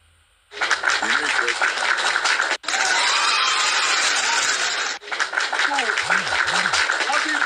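People clapping for Mohbad: a loud, continuous crowd patter with brief cuts in it, and voices talking and calling out over the clapping throughout.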